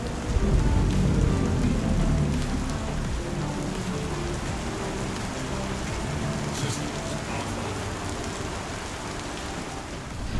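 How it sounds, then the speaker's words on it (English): Heavy storm weather in the Star Citizen video game on Pyro 1, a dense steady roar of rain hitting surfaces with low rumbling, constant and loud from start to finish with no voices. "with Pyro 1's weather effects including the distortion-based storm mentioned earlier"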